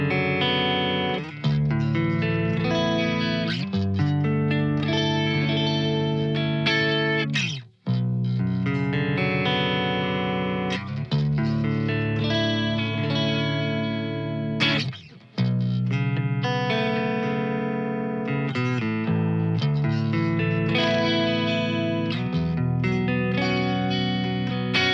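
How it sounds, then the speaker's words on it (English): Clean electric guitar channel through an ENGL amp model on a HeadRush unit, run straight into an impulse response with no effects, playing a continuous sequence of strummed and picked chords, loud and dry, alone without voices. "here's how the clean channel sounds purely into the IR with no effects"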